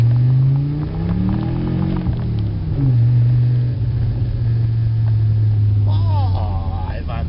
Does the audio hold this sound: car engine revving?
yes